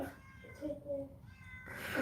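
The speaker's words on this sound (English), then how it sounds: "Tell that cat to go away." A cat meows a few times close by, short nasal calls spaced across the moment over quiet room noise with faint background voices.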